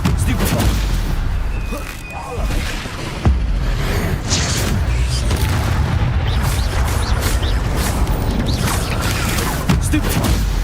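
Combat in the Hogwarts Legacy video game, with a Stupefy spell cast amid dense continuous booms, blasts and mechanical clatter, loud and unbroken throughout.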